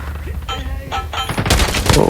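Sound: gunfire in video game Call of Duty Mobile

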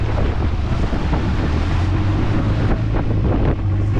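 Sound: boat crossing rough sea with wind and waves

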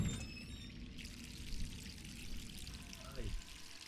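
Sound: water running from a tap in video game Resident Evil 3

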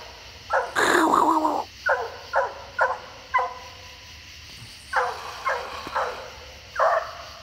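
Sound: dog growling

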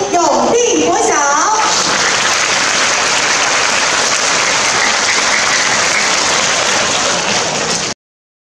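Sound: applause for schoolchildren's performance

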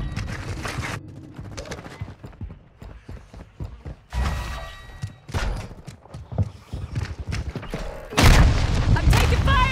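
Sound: gunfire in the video game Call of Duty

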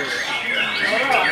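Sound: white-rumped shama singing

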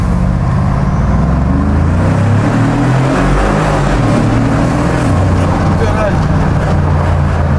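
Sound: new car engine sound test in a tunnel

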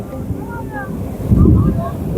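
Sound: large sea waves on the shore

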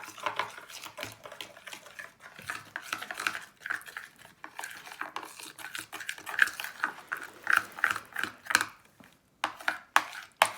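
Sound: stirring salt into a slime mixture

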